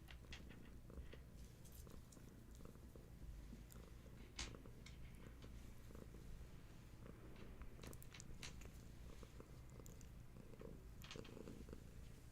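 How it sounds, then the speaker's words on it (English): A cat purrs steadily and close, a low continuous rumbling that rolls on without pause, with a few faint clicks and rustles over it. "little motorboat, you purring?"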